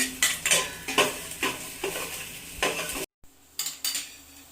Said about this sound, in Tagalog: In a hot pot, let's saute garlic,